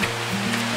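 A brief burst of rushing water, a dense steady roar like a mountain stream in a deep valley in midwinter, tumbling close by.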